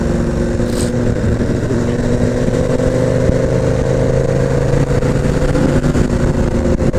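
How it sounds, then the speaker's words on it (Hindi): A Honda CBR 1000cc sport motorcycle's exhaust rumbles steadily nearby, a loud sustained engine drone with slight rises in pitch as it revs, heard alone without talk. "नॉइस आवाज एग्जॉस्ट की आवाज़ सुन के तो मेरे को 1000 CC लग रही है"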